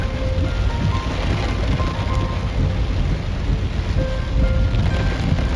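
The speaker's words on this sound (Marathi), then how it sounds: "भयानक पाऊस पडतोय, भयानक." Heavy rain pouring down onto a flooded road during a cloudburst, a dense, loud, unbroken hiss and roar with faint tonal whines mixed in.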